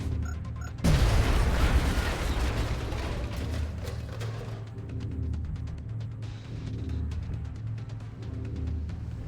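A frag grenade detonates in the video game XCOM Long War, one sudden heavy boom that rolls into a long rumbling, crackling tail of debris and mechanical noise.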